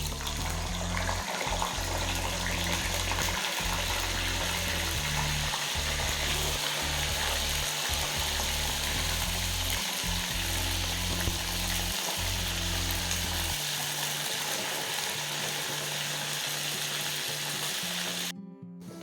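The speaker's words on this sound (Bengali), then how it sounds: "এবার আমি প্রথমে দিয়ে দেব ফুলকপিগুলো।" Cauliflower pieces fry in hot oil in a kadai, a loud, dense, continuous sizzle with a low hum running underneath that drops away near the end.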